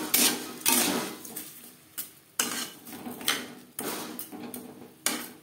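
A spoon clanks and scrapes against a pot while sugar and raw mango are stirred together for a jelly chutney, giving a run of irregular, close metallic knocks with short pauses between them and no talk.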